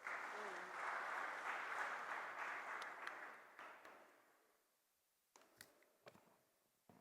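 Quiet audience applause at a national convention, a soft wash of clapping that fades after about four seconds, followed by a few scattered knocks and handling sounds.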